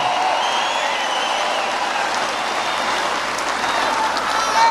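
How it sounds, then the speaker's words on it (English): A big crowd at a Donald Trump political rally in Loveland, Colorado, keeps up dense, steady applause with faint cheering mixed in throughout. "And another big round of applause for them."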